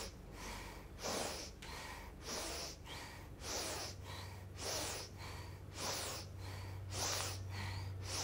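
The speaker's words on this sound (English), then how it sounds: "Nice, powerful breath." Powerful, rhythmic nasal breathing during a kundalini yoga twist, with sharp forceful snorts repeating about every half second, close, over a faint low hum.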